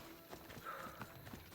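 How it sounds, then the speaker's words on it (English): A horse in the video game Assassin's Creed Odyssey trots with a brisk, rhythmic clip-clop of hooves, moderately near and fairly quiet, with a brief whinny-like tone mixed in. "Calling a horse."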